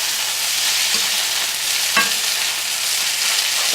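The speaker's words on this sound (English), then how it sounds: "Keep on turning and tossing." A steady, close sizzle of homemade noodles and eggs frying in a hot pan, with a couple of soft knocks as they are turned and tossed.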